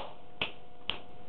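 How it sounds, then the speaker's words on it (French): Two crisp finger snaps about half a second apart, close and sharp against a quiet background. "il faut que vous fassiez des claquements de doigts"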